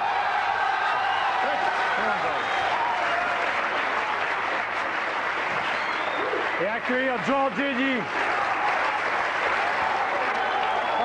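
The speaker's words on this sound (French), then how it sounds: "Vous pouvez l'applaudir debout, c'est un grand bonheur." A studio audience on the French TV talk show Nul Part Ailleurs (Canal+, 1997) gives loud, sustained applause with scattered whoops, while a voice speaks over the clapping.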